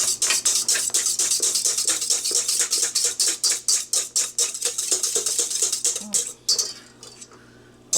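A spoon scrapes rhythmically around a pot of tiramisu mixture on the stove, quick close repeated strokes that slow and stop near the end.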